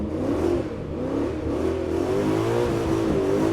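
A Nissan Skyline engine revs hard at full throttle while the car drifts on a frozen track, giving a continuous loud, wavering roar that rises and falls with the throttle and carries no talk.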